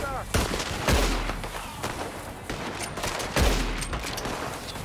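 Gunfire in Red Dead Redemption 2, with two loud, sharp shot bursts near 0.9 and 3.4 seconds ringing out among scattered smaller impacts and game noise.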